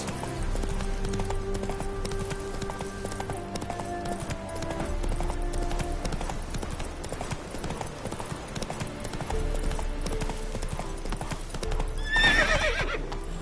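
Hooves of the horse Roach clip-clop in a steady galloping rhythm through The Witcher 3, with neighs and whinnies breaking in over game music and ambience for most of the stretch.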